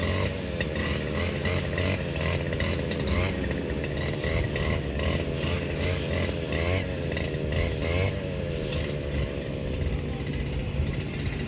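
A Cummins engine fitted in an X-Series farm vehicle rated at 205 horsepower runs loudly and continuously, a dense mechanical roar with rising and falling revs across the whole stretch.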